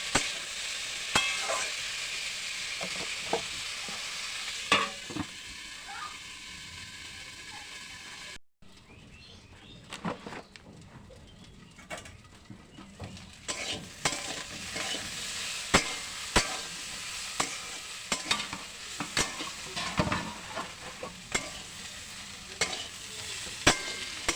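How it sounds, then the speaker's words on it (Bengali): Ivy gourd (kundri) fries in a pan for a village-style masala dish, giving a steady sizzle broken by the scrape and clatter of stirring, with birds chirping faintly in the background and a brief quieter pause partway through. "কুঁদরিটা ভাজা হয়ে গেছে এবার এটাকে একটা বাটিতে তুলে নিচ্ছি"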